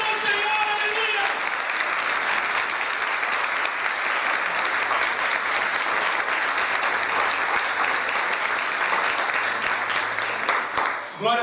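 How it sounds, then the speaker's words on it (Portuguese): A church congregation applauds in praise during a worship service, steady dense clapping filling the room for about ten seconds after a brief spoken lead-in at the start, fading slightly at the end. "Apenas aqueles que creem, aplaudam o Senhor, aleluia."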